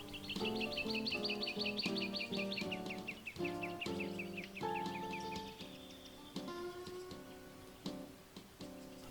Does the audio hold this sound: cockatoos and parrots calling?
yes